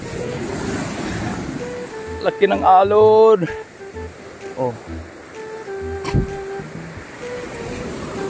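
Large ocean waves rolling around a small wooden outrigger boat near a big floating log, with a steady wash of surf and a buzzing boat motor under excited shouted voices.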